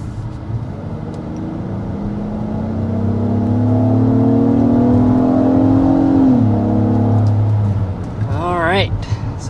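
A 2024 Acura MDX with its naturally aspirated 3.5-liter V6 pulls away from a start, the engine note rising steadily and loud, then easing off near the end, with a faint voice underneath.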